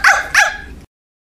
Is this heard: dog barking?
yes